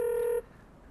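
A telephone being dialed gives one loud, steady electronic keypad tone, close and clear, that cuts off sharply after under half a second and leaves near silence.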